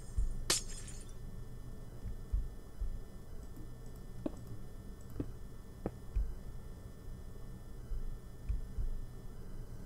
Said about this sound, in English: put in glass panes on every window opening